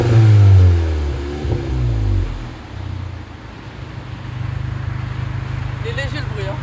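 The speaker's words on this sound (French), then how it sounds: "ce qu'on veut maintenant c'est entendre le son moteur" A stock VW Golf 7 GTI Performance engine revs during a road test, a loud low rumble rising at first, then settling into a steady drone heard from inside the car, with people talking over it.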